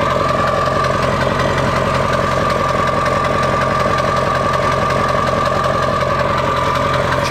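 An OBS Ford Power Stroke diesel truck engine idling nearby, a loud, steady, rough clatter with a constant low rumble and rhythmic knock that holds unchanged throughout.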